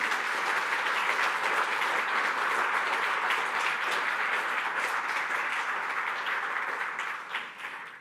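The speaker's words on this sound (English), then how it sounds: "Please join me in giving me one additional round of applause for our speaker" Sustained audience applause for a speaker at a lecture event, dense and steady clapping from a large crowd that tapers off near the end.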